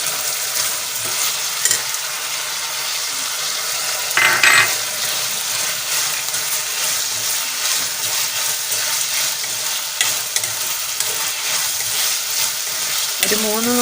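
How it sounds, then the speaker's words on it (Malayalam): Spinach and cashew nuts sautéing in a pan, with a steady loud sizzle and frying hiss throughout, broken by a few stirring scrapes and a brief clatter near the middle. "ഒരു 3-4 മിനിറ്റ് വഴറ്റി കൊടുത്താൽ മതിയാവും."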